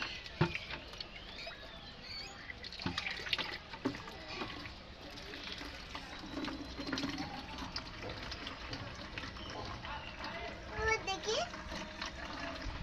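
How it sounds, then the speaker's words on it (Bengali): Water splashing and pouring from a bucket at a tube well while a child bathes, irregular sloshes and splashes throughout, close, with people talking over it. "জল তো বাইরে চলে যাচ্ছে"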